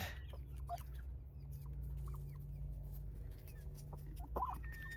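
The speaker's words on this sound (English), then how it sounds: "she's in with the baby chickens" Baby chickens in a homestead coop give a few faint, scattered chirps and clucks, quiet and distant over a low steady hum.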